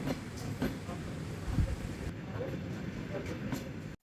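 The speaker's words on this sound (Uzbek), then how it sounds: "Mana bizning elektrichkamiz." An electric commuter train (elektrichka) rumbles along with a steady low roar and faint rhythmic clacks, heard from inside the carriage, with indistinct voices murmuring beneath the noise.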